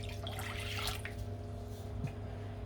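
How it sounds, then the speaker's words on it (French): Warm water poured for pizza dough, a steady close splashing stream running the whole time with a steady low background hum. "je verse mon eau tiède"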